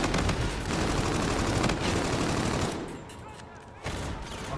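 Minigun firing in a shooter video game, a rapid continuous rattling burst that cuts off near the end, followed by a quieter gap and a brief return of fire, with a player talking over it.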